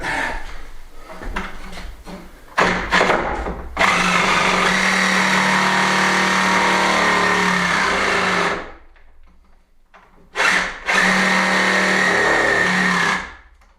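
A car engine cranks over on a weakening battery in two long bursts of buzzy, whirring starter noise, separated by a pause. Short clatters come before the first attempt, and no speech is heard.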